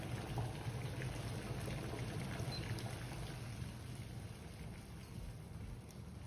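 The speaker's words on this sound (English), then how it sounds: "our water will come straight back to a rapid boil" Water coming back to a rapid boil in a pot on an induction cooktop: a steady, dense bubbling and rushing roar, close and constant throughout with no talk.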